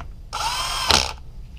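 A power drill runs in one sustained burst of just under a second to tighten a clutch cover screw on a Yamaha YFZ450R quad engine, with a brief louder surge near the end as the screw seats, then stops.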